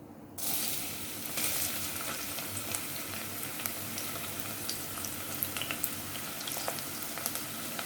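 Onion pieces drop into hot oil for a cabbage curry and set off a continuous bright sizzle that starts abruptly and holds steady, with faint crackles and pops scattered through it.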